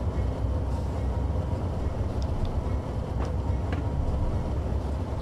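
An Amtrak P42 locomotive in Train Simulator 2017 runs with a steady rumbling rail roar and faint clicking of wheels over track, continuous and fairly loud, with no talking.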